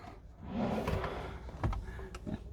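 A storage drawer in a Mega Mobil Mega Vario Activ 680 campervan slides out with a smooth, rumbling glide lasting a couple of seconds, followed by a few light clicks and knocks nearby.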